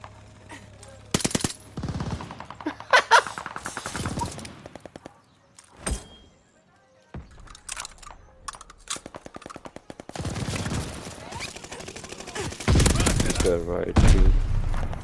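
Gunfire in the Call of Duty Vanguard multiplayer video game, with bursts of rapid automatic fire and single shots in uneven clusters, loud and close, a short lull midway, and a voice talking over parts of it.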